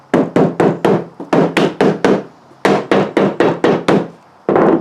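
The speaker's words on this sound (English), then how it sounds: "I just started whaling it with a hammer to close it" A hammer strikes a metal paint can lid to close it, about fifteen sharp knocks in uneven bursts with short pauses, loud and close.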